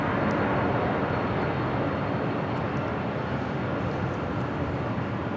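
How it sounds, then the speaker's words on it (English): Emirates Airbus A380 airliner on approach to LAX runway 24 right, a steady broadband jet roar holding loud throughout with no talk. "At the Emirates A380 Super heading here to 24 right."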